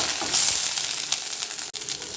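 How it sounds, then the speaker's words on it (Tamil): Oil sizzles and crackles steadily in a pan as curry leaves fry, with light stirring scrapes and one brief pause. "கருவேப்பிலையோட பச்சை வாசனை போகிற அளவுக்கு வதக்கி எடுத்துக்கலாம்."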